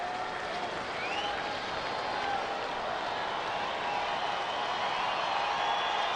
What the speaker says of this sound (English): The crowd rising to the occasion for the moment.